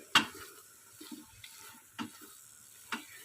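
A spoon scrapes and stirs khoya into carrot halwa in a pan, making a few separate soft knocks and scrapes spaced about a second apart over a quiet background.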